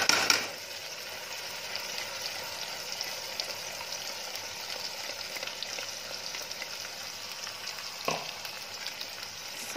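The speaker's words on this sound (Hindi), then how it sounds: "अब मसाले को फ्राई करेंगे" Ground masala paste fries with browned onions in a pan for paneer curry, a steady close sizzle with a soft stir and scrape near the end, no voices.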